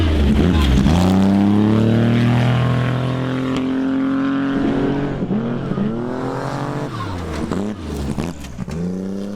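A trophy truck of over 1,000 horsepower roars past at speed in the outback, its engine note climbing and falling in a loud Doppler sweep, then fading into rough revving as it goes away.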